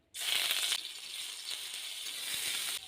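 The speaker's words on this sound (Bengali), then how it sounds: "আদাটা দুই মিনিট ভেজে নিয়েছি" Grated ginger hits hot oil and bursts into a loud, bright sizzle that eases after a moment into a steady frying hiss.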